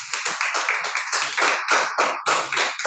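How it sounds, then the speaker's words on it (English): A few people clapping at a Toastmasters club meeting after a speech, close and fairly loud, with uneven bursts of separate claps rather than a dense crowd. "Let's give him a round of applause"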